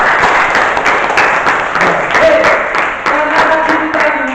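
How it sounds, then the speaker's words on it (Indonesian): Audience applause at a school teaching-practice session, a dense steady clapping sustained throughout at close range, with a faint voice briefly audible underneath. "Kita kasih aplaus untuk semuanya."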